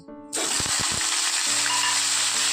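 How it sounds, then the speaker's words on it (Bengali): Cauliflower florets drop into hot ghee and white oil, setting off a sudden loud, steady sizzle with a few thumps as pieces land, close and without speech. "দেখুন কতটাখানি ঘি আর সাদা তেল দিচ্ছি। গরম হয়ে গেছে, আমি ফুলকপিটা দিয়ে দিচ্ছি।"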